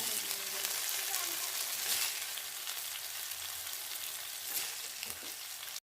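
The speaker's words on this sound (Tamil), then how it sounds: "இந்த அளவுக்கு இறாவும் நல்லா ஃப்ரை பண்ணியாச்சு" Prawns frying in a pan for prawn biryani give off a steady, bright, hissing sizzle at close range, fairly even throughout before cutting off abruptly at the end.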